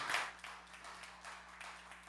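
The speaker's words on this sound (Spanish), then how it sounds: "Dámosle un aplauso" A church congregation applauds together for the Lord during a service, a quiet, steady spread of clapping with a brief louder burst at the start.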